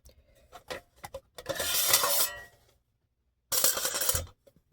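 Metal Pathfinder PFM40 mess kit pan being handled and set aside, giving a few close clinks and scrapes, then a burst of rattling metal, a pause and another clattering scrape.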